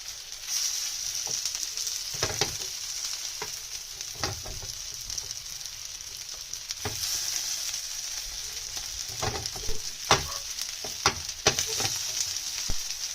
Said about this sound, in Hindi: ऑयल डालने के बाद जो है वो हम मिक्स वेजिटेबल कबाब इसके ऊपर डालेंगे